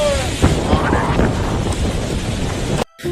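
Snowstorm winds blowing hard, with temperatures around -55°C and gusts near 64 km/h: a loud, steady roar of gusting wind and buffeting against the microphone, cutting off abruptly near the end.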